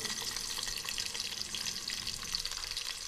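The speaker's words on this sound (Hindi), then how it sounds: "अब अपनी प्याज को इसमें हल्का सा फ्राई करूँगी" Chopped onion frying lightly in oil in a pan for arvi qeema, giving a steady, close, even sizzle with no talking.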